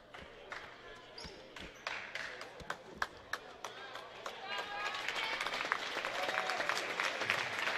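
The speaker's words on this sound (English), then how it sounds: "Bryson getting a round of applause from the Marmaduke faithful still in attendance here" Basketball fans in a high school gym applaud a player, scattered claps building into steadier applause, with a commentator talking over it and sharp ball or sneaker thuds in the first half.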